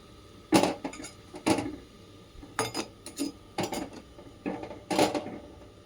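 A ladle scrapes and clinks against a cooking pot while manathakkali greens are turned and stirred, giving about eight short metallic bursts spaced irregularly over a few seconds, fairly close and loud, with no voices.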